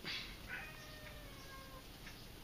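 A house cat meows faintly and briefly, several short calls in a quiet indoor room.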